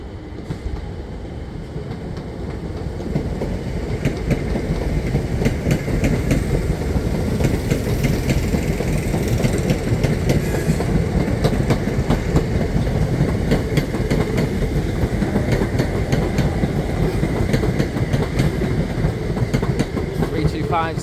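Royal Mail Class 325 electric multiple unit 325-015 passing at close range, a loud sustained rumble with rhythmic clickety-clack of wheels over rail joints that builds in the first few seconds and holds steady throughout.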